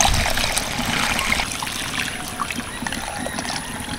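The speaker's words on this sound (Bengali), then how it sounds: "1 লিটার কিন্তু জল দিয়ে দিচ্ছি।" Water pours steadily into a pot of soaked rice for chicken pulao, one liter poured in a continuous, close splashing trickle.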